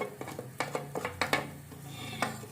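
A metal spoon clinks and scrapes against a cooking pot as red chili powder goes into browned onions while Lahori chana masala is cooked, making a run of sharp, close taps and stirring clatter with no talk.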